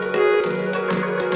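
A breathy exhale vocal hit layered with mellow marimba notes in a produced track, with several soft plucked tones repeating in a short, steady phrase, and no talking.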